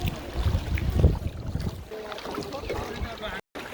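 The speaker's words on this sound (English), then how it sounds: "here I am pretending to help paddling" A rowboat is paddled through the Trang An landscape complex in Ninh Binh, Vietnam, with steady water swishing, low rumble and wind buffeting the microphone, then a brief dropout near the end.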